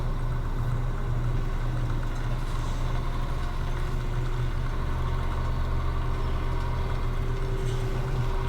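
A blue truck engine idling in the farming game Farming Simulator 17, a steady low rumbling drone held evenly throughout with no voices.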